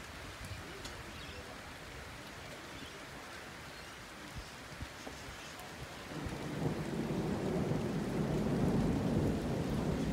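Heavy thunderstorm sweeping across St Leonards, with steady rain and rolling low thunder that swells into a louder, denser roar of downpour and rumble partway through.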